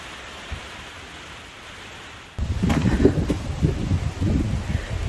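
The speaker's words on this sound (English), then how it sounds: "It is raining." Steady rain pattering on a greenhouse roof overhead, a dense, close hiss that suddenly grows louder and heavier partway through, with no voices.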